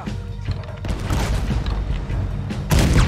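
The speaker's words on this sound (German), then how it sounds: "Der blöde Hund schießt dann mit der Kanone auf uns" Cannon fire in the video game Red Dead Redemption 2, heavy booms and rumbling blasts in quick succession, loud and dense, with a bigger blast near the end.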